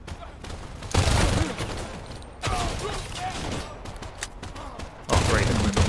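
Gunfire in the Crime Boss Rockay City video game, heavy fusillades of rapid shots arriving in loud bursts with mechanical clatter between them, while voices talk at intervals.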